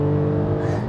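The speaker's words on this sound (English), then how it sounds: "I like this three-cylinder engine." A small three-cylinder Toyota Aygo X engine drones steadily at close range, its low uneven thrum holding a constant pitch for about a second.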